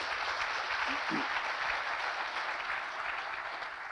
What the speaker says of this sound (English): Let's give Alfred Abuhamad a round of applause